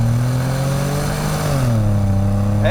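A Toyota Alphard minivan's V6 engine revs hard from a stop and climbs through the gears under full throttle, a loud, steady mid-range roar that dips briefly mid-pull before rising again.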